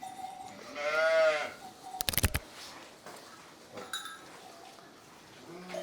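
Sheep on a farm give a single clear bleat near the mic, followed by a sharp clatter and faint rustling in a quiet outdoor setting.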